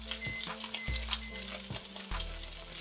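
Chicken frying in a pan for a homemade stir fry, a steady close sizzle with crackling pops and an occasional clink of utensils against the pan, no voices.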